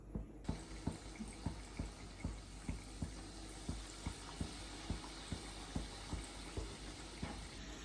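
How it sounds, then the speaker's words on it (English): Potato slices go one at a time into hot oil for vegetable pakoda, a steady bubbling sizzle with soft regular pops roughly every half second throughout. "So the oil is kind of hot. I'm dipping the potato one slice at a time."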